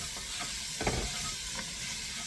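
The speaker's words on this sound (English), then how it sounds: "we're sauteing our vegetables here" Vegetables sauteing in a pot for palmetto chicken, a soft steady sizzle with a few brief scrapes and clinks of a spoon stirring, close and fairly quiet.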